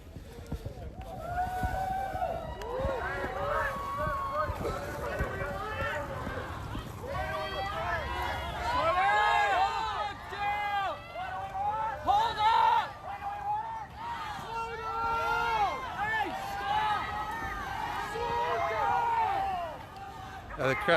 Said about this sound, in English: Crowd out chanting one and done